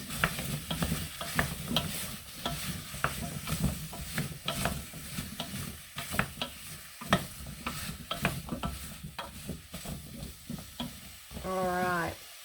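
Chunks of pumpkin are stirred through sizzling curry paste in a pan for Thai pumpkin soup, with repeated scraping strokes over a continuous frying hiss, close and fairly quiet.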